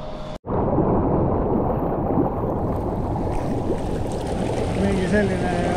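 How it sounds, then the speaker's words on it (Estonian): A small square hot tub bubbles steadily at a spa in the Tõrva area, its dense churning water noise filling the scene loudly and continuously after a brief cut at the start. "Mingi selline väike mullivann siin."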